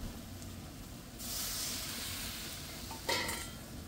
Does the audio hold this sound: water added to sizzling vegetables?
yes